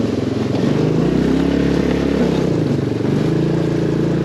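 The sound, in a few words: HammerHead 250cc go-kart engine driving around a mini track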